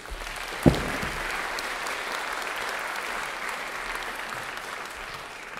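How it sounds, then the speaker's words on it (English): A concert audience applauds the performers, a sustained, fairly even clatter of many hands that opens with one sharp clap and continues without voices. "Please give them a hand."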